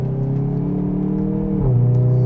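Hyundai i30 N with DCT gearbox, steady engine hum heard close up, dropping in pitch near the end as revs fall; no distinct pops or bangs stand out.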